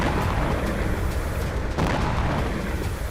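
Explosions from a Ukrainian drone strike on a Russian weapons plant producing bombs, missile warheads and explosives, heard as a sustained, dense rumbling blast with a renewed burst midway, loud and continuous with no voices.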